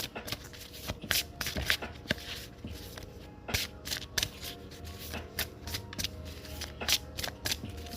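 A tarot card deck is shuffled by hand, giving quiet, repeated crisp riffles and snapping flutters in irregular bursts, close and alone.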